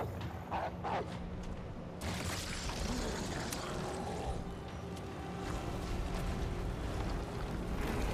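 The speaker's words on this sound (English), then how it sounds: "Throw another grenade at him." A grenade blast in Resident Evil booms out partway through, a broad rumbling burst over ongoing game noise, with scattered impacts and debris-like crackle before and after.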